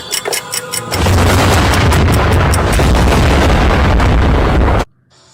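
A bomb goes off in a crime drama set on Blue Panther Island: a brief ticking lead-in, then a loud, sustained roaring blast with heavy low rumble lasting several seconds before cutting out abruptly.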